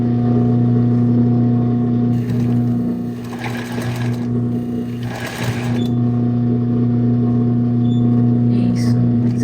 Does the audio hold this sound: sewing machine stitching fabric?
yes